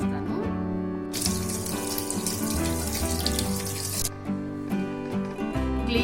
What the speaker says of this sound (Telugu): సో ఇప్పుడు నేను వాటర్తో ఇది క్లీన్ చేస్తాను.